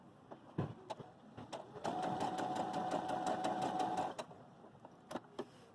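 A Baby Lock Jubilant sewing machine running a long temporary basting stitch, its needle thumping in a steady, fast mechanical whir for about two seconds, with scattered clicks and taps before and after.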